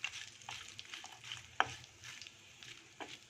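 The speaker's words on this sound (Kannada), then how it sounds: "ಅಲ್ಲಿವರೆಗೂ ಮಾತ್ರ ಹುರಿಬೇಕು, ಏಲಕ್ಕಿ ದಪ್ಪ ಆಗೋವರೆಗೂ ಅಷ್ಟೇ." Whole cumin, pepper, cardamom, cinnamon and bay leaves frying in hot oil for dhaba-style shahi paneer, a soft steady sizzle with occasional stirring scrapes and one sharp clink, close and fairly quiet.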